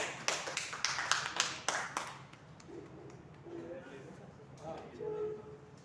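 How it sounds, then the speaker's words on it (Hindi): Audience at a kavi sammelan poetry gathering claps to welcome a poet, several bursts of applause close together that fade out after about two seconds, followed by quieter room sound and a voice speaking. "सब ताली बजाकर स्वागत करेंगे।"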